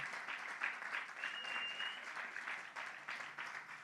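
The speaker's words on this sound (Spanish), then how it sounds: "Un aplauso fuerte al Señor Jesús." A church congregation applauds, a steady wash of many hands clapping at a moderate distance, fairly quiet, with a few voices faintly mixed in.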